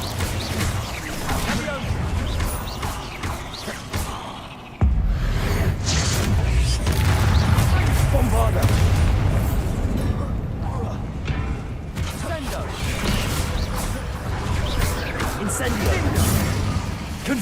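Spell explosions in the video game Hogwarts Legacy, cast against a swarm of spiders, form a loud, continuous barrage of booms, whooshes and crashes with a sharp cut near the start, while a player's voice shouts over the din.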